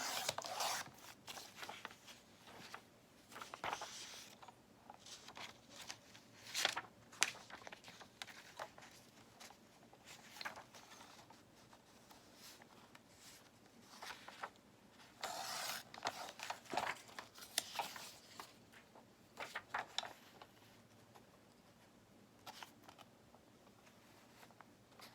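Scissors cut a sheet of journaling paper with a recipe printed on its back. Soft, close, intermittent snips and paper rustles sound quietly over a hushed room, with no talking.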